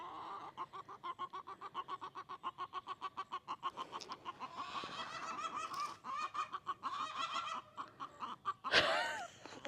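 A farm hen squawks while sitting on her nest, giving a long run of rapid, evenly pulsed clucking squawks, faint and steady, that turns more ragged and ends in a louder outburst.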